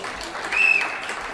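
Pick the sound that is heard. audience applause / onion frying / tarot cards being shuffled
audience applause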